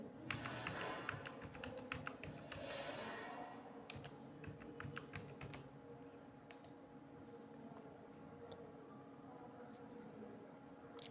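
Someone types numbers on a computer keyboard into Excel, producing a quick run of close, clicky keystrokes that thin out into a few scattered taps over a faint background hum.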